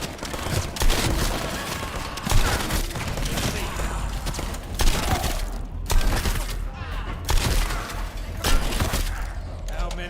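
Repeated shotgun blasts in the game The First Descendant, loud sharp bursts spaced a second or two apart amid ongoing combat noise, with someone talking over the gunfire.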